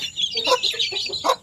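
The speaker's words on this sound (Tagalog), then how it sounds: "Tapos yan yung inahin natin." A mother hen in a small backyard chicken coop with young chicks clucks in a quick series of close, moderately loud calls across the whole moment, with no talking.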